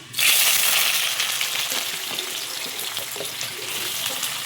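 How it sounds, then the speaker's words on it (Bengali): Onion dropped into hot oil with a paste of ground coriander and cumin, giving a loud burst of sizzling that settles into steady, close crackling frying. "তো আমি এখানে দিয়ে দেবো হচ্ছে পেঁয়াজ"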